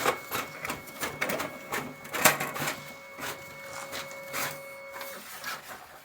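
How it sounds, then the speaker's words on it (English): A Brother MFC-J1365DW inkjet printer scans a page and makes copies, giving off repeated mechanical whirs, clicks and clacks of its moving carriage in an irregular rhythm, close by and moderately quiet with no voices. "the printer has automatically detected that I have put paper over here and start scanning and making the copies"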